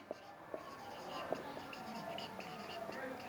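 Scratchy strokes of writing on a board during a math subtraction lesson, short bursts with small gaps, close and fairly soft, with a faint voice murmuring underneath.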